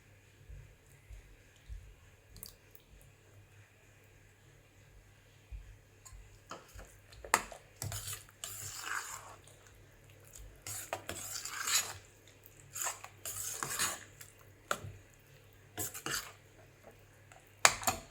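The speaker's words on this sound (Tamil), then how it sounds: "இப்போ தயிர் சேர்க்கலாம்." Spoon scraping and stirring as curd is mixed into cooked samba broken wheat rice, soft irregular clinks and squishy scrapes in short clusters, fairly faint and close, with no talking.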